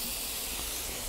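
Water dropped onto a hot grill beside cheese-topped food sizzles into steam, a loud, dense hiss filling the whole moment without a break, close and continuous.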